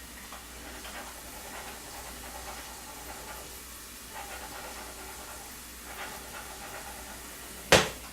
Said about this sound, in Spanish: Cuando empieza a dorarse el ajo le ponemos unos anillitos de guindilla.